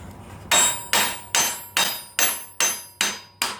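Eight sharp metallic hammer blows land at an even, steady pace on a part from a 1983 Honda Goldwing motorcycle, each strike loud and close with a short ringing decay.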